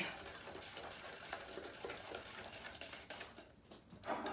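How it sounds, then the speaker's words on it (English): Chocolate cookie batter being mixed in a bowl, a steady busy clatter and whir of beating with scraping against the bowl, continuous and moderately close throughout, with no talking. "So we're gonna mix it for about 3 to 4 minutes"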